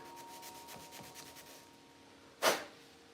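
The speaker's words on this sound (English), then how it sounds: "First I'm just using, it's 180 grit sandpaper" Wood sanded by hand with 180 grit sandpaper on a hard surface, giving soft, faint rhythmic strokes that end in one louder, brief scrape near the end.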